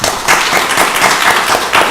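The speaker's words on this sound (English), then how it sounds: "Let's give them a round of applause." Round of applause at a county board of commissioners meeting, a loud burst of many people clapping close by in a room, dense and continuous for the whole short stretch with no talk.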